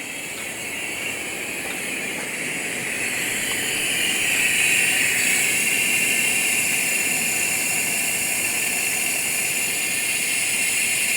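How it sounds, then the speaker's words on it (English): An air compressor runs in a garage during a 2012 VW Touareg oil change, a loud, steady hissing drone that swells slightly partway through and holds without pause, alone with no talk. "We're about 90 pounds here on the compressor, so it'll likely come on here in a minute."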